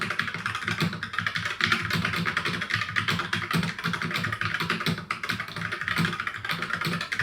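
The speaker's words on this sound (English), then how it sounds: "even though these are brown switches, they are great for typing" Steady, dense typing on a mechanical keyboard with brown switches, soft tactile key clacks running continuously at a close, moderate level with no talking.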